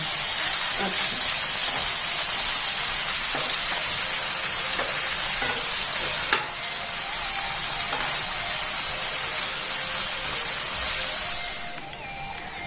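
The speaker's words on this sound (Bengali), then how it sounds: "মাছের মাথাটা ভাজা হয়ে গেল।" A boal fish head fries in oil with a loud, continuous sizzle that holds steady and eases off near the end.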